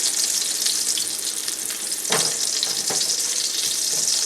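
Salisbury steak patties brown in a frying pan with a strong, continuous hissing sizzle, broken by a couple of soft scraping thumps as they are shifted, close and loud throughout with no talking.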